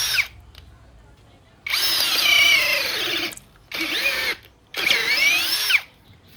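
A Gtools GT12P drill driver bores into wood roughly 5 cm thick, whining loudly in three separate bursts with short pauses between, the pitch shifting as the bit loads and frees.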